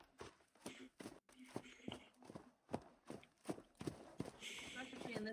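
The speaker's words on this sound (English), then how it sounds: "Navigating via horse kinda sucks." Horse hooves clop steadily while riding across rough terrain in the video game Vintage Story, a rhythmic series of close, fairly quiet thuds with a voice talking over them.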